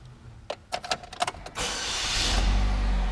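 A Chevrolet Cobalt car engine starts after a few clicks and a short cranking burst, then catches and settles into a steady, close idle.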